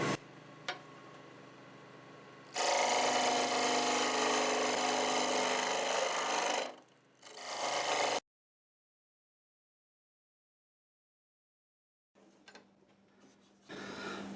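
A wood lathe spins a hollowed mimosa root vase at 1500 RPM, giving a steady loud whir for several seconds that breaks off, then a stretch of silence before the machine noise returns more faintly.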